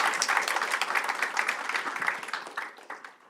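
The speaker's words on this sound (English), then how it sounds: "I would like to give a round of applause to MJ" Audience applause at a physics intern symposium, a steady wash of many hands clapping that holds for a few seconds and then fades out.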